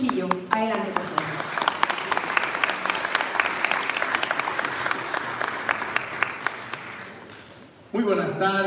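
Loud, sustained applause from a crowd at a talk on social media and politics, welcoming a guest to the stage. Clapping fills most of the stretch, with a voice speaking briefly at the start and again at the end.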